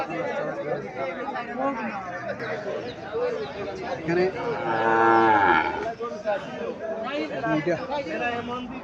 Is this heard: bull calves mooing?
yes